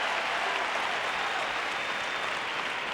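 A US Open 2019 tennis crowd, watching Zverev face Tiafoe, applauds a won point with dense, steady clapping that fills the whole stretch at an even, loud level.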